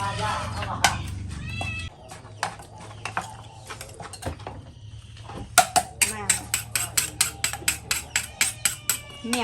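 A cat meows several times, nearby and fairly loud, while a person talks and something is pounded in a steady rhythm in a kitchen where spicy papaya salad is being made.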